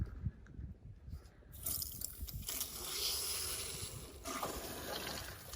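Water rushing through a flushing muff attached to an inboard boat engine during winterization, starting with faint drips and then surging into a steady splashing flow that stays close and moderately loud.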